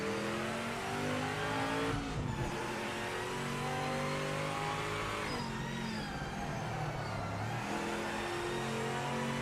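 A GT race car in Project Motor Racing, restarted after a stall, revs up and down repeatedly, its engine note rising and falling in several loud sweeps through gear changes, with no talk.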